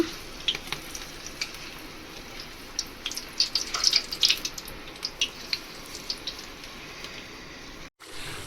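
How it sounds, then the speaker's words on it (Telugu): Chakralu, rice flour snacks, fry in hot oil with a steady dense sizzle and scattered sharp pops and crackles, close and fairly loud, with a brief clunk near the end. "సో చక్రాలు అయితే ఫ్రై అవుతున్నాయి"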